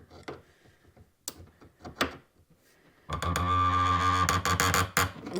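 A wrench tightens an air line fitting in a shop: sparse metallic ratcheting clicks and handling noises first, then a loud, dense stretch of grinding, clattering mechanical noise as the fitting is cranked down tight.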